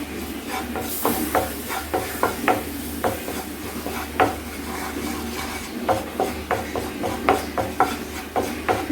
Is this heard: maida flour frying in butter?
yes